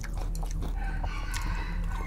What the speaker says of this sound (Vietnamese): Gà gáy cả nhà nghe không?